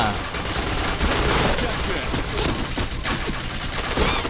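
A SCAR rifle fires in Point Blank, dense bursts of gunfire mixed with game effects, loud and close, while someone talks excitedly over it.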